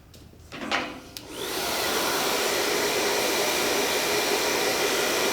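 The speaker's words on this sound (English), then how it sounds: "Working the hairdryer" A hair dryer switches on after a few faint handling knocks and then blows with a steady, loud, even whoosh while styling hair.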